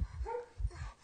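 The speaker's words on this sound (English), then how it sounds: "That's my dog, by the way." A dog barks from nearby through an open window: two short woofs with a yip between them, loud and alone.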